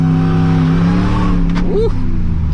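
A Dodge RAM 1500 pickup with a swapped-in Hellcat engine accelerates hard with its tires spinning: a loud, steady engine roar fills the clip, with a brief rising squeal near the end.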